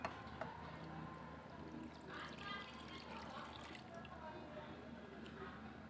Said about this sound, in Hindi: पानी भर दिया है